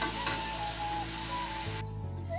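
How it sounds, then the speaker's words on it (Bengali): Meat added to frying potatoes in a pan gives a brief, loud, steady sizzle with a shift in tone partway through as it settles in the oil, with no talking. "আলুটাও সুন্দর হয়ে ভাজা ভাজা হয়ে গেছে এখন আমি মাংসটা দিয়ে দেবো মাংসটা দিয়ে দিলাম"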